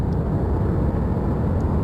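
Jet engine roar of a Sukhoi Su-25T attack aircraft in a flight simulator game, a steady, dense low rumble and whine holding at an even level throughout with no voices.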